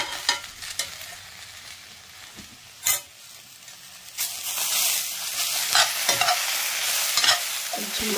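Okra curry frying in a pan, a steady close sizzle running throughout with repeated scraping and knocking as a spoon stirs it, no speech.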